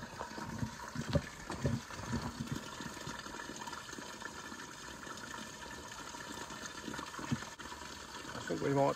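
Water rushes and splashes out of the boiler of a 4-inch scale Alfred Dodman model steam traction engine during a washout and descale, a continuous noisy gush with a few louder surges.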